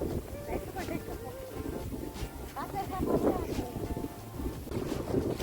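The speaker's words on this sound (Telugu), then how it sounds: "ఆ స్పీడ్ గాలికి అలలు వచ్చినట్టు వస్తుంది." Strong wind blows across a lake in Adilabad, whipping up waves, with rough, gusty rushing and buffeting close to the microphone. People talk loudly over it at an outdoor family picnic.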